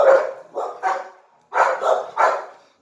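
A dog barks indoors at home, two sharp barks, a short pause, then three more in quick succession, close and loud with quiet gaps between.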